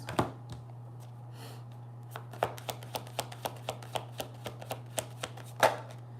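Tarot cards being shuffled by hand, a run of crisp evenly spaced riffling taps and flicks close up, with a louder slap near the end and no talking.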